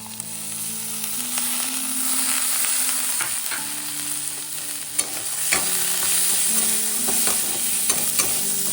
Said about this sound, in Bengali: বাদামটা আগে ভেজে রাখিনি, একবারেই দিয়ে দিয়ে এর সাথেই ভাজা ভাজা হয়ে যাবে।